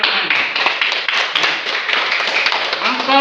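A class of children clap their hands in a dense, scattered burst of claps that runs throughout, with voices talking over it and a voice rising near the end.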